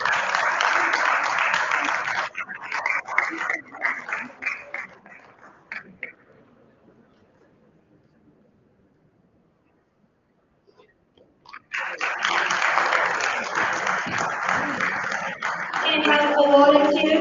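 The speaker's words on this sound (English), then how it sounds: "Can we have a huge round of applause," A conference audience at a skills summit claps in honour of a speaker. Applause fills the opening seconds and fades into near silence, then a second full burst of clapping returns near the end.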